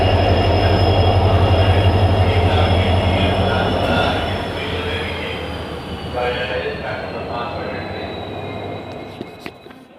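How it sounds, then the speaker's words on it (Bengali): The Ranikhet Express pulls into a railway platform with a loud, heavy rumble and a metallic ring that gradually fades as it slows, with brief clanks near the end and people talking on the platform. "আমার ট্রেন ঢুকে গেছে।"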